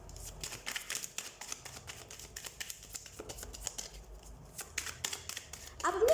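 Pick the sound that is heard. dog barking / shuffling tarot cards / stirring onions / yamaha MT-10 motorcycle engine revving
shuffling tarot cards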